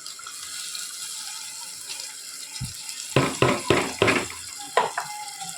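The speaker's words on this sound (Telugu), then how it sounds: "చికెన్లో అనేది వేసేసుకోవాలి మనం ఈ వాటర్ అంతా." Masala water, rinsed out of the mixing vessel, is poured into chicken curry: a quiet background hiss, then a cluster of close splashing, clattering bursts near the end.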